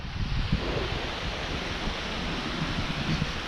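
Little Aber Falls (Rhaeadr Fach) in the Carneddau, Snowdonia, roars as a loud, steady, close rush of falling water with a windy edge, and no voices.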